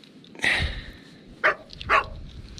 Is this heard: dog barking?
yes